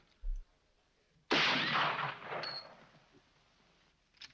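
A single rifle shot during a shooting contest in the Western film Winchester '73, a sharp broadband crack with a decaying tail, heard alone without talk over it.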